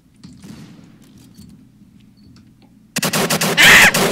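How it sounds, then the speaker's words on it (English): Rapid bursts of gunfire erupt suddenly and loudly in the Roblox shooter Call of Robloxia, following a quieter stretch of faint ambient game noise and distant muffled activity. "I don't know where these shots are coming from."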